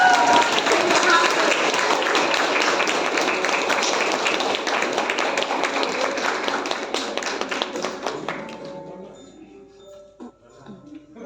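School teachers' Christmas gathering audience breaking into loud, dense applause that carries on for several seconds, then thins out to scattered claps.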